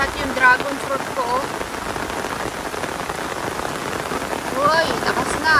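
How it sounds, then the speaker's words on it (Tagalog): Heavy typhoon rain from Typhoon Goring pours steadily on a farm with dragon fruit and pineapple plants, a dense close hiss of drops on surfaces that swells louder toward the end, with brief voices faintly underneath. "Malakas na po ang ulan"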